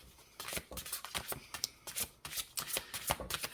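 A deck of spirit message cards is shuffled, making a rapid run of crisp riffling and flicking bursts up close, quiet and with no voices.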